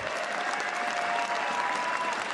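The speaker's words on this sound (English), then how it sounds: "Please give a round of applause for tom60229 from Taiwan." A crowd at the Hearthstone World Championship semifinals applauds steadily, dense clapping filling the space without a break.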